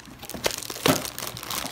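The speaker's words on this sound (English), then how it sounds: "So it comes in this plastic bag, which we're going to remove and properly dispose of." A plastic bag being pulled off a new nano filter, giving a run of close crinkling and rustling with two sharper crackling bursts, no speech.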